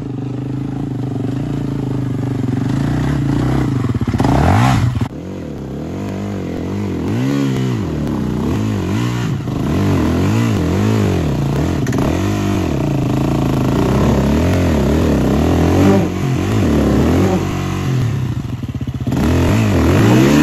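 A motorcycle engine revs repeatedly with too much clutch, loud and close, its pitch rising and falling in wavering sweeps after a brief pause, running continuously throughout.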